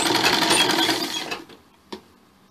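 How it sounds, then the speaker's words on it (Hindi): A sewing machine runs steadily for about a second and a half, stitching blouse fabric with piping cloth folded over it. It then stops, leaving near silence broken by one short mechanical click. "और एक एक सिलाई दे दो।"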